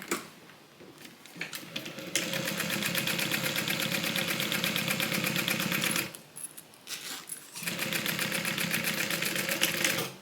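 A sewing machine top stitching a Bible cover runs in two long bursts of rapid, even mechanical ticking, separated by a short pause with small clicks and handling noises.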